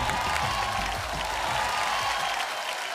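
Applause for a singer at the IBFA 2019 awards show, a steady wash of clapping and crowd noise from a large audience filling the whole moment without a break.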